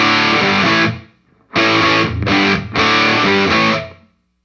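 Electric guitar through a Line 6 POD GO amp model with only reverb added, distorted chords struck in a few loud bursts with a short gap, the last one ringing out into silence.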